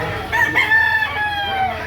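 A young gamecock rooster crows once, near and loud, at a rooster market in Lipa City, Batangas, with faint background voices and clatter underneath.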